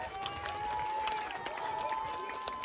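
A seated audience at the French schools and colleges chess championships, held in a village, applauds the mayor with a dense, steady patter of many hands clapping that fills the room at moderate volume.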